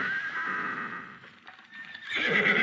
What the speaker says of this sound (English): 6 fine grey horses to pull the golden carriage.